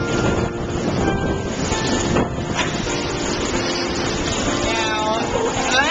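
Wind buffets the microphone over the roar of Atlantic Ocean waves at a beach, a loud, constant broadband rush with brief faint voices in the background.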